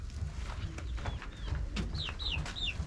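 Chickens in a coop give soft clucks and a few short, rising calls, fairly faint over low background rumble.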